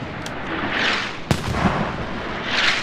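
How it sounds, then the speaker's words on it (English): Mortar shells landing in a multiplayer war video game: distant muffled booms and one sharp crack among diffuse rumbling impacts over a steady battlefield wash. "Mortars dropping."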